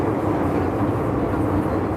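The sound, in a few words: train noise heard from inside a Hong Kong train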